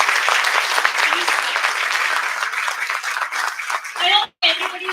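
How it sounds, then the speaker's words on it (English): Audience applause fills a seminar hall at a panel session: dense, steady clapping from many hands for about four seconds, a short break near the end, then clapping resumes with a few voices briefly audible over it. "Can we have a big round of applause?"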